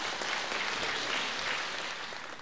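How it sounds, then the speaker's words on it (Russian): A concert hall audience at an accordion festival gala applauds warmly. The clapping is close, thick and continuous, tapering slightly toward the end. "Ваши аплодисменты."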